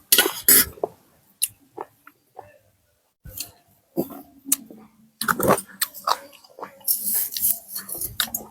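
Crunchy fresh vegetables chewed close to the mouth, irregular crisp bites and munching bursts separated by short pauses, with a cough-like throat noise at the start.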